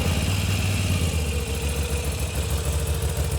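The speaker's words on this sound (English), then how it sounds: "Let's fire the bike up." A 2021 Moto Guzzi V7 Stone Centenario motorcycle engine idling steadily nearby, a low throbbing rumble with an even pulse, loud and continuous with no speech.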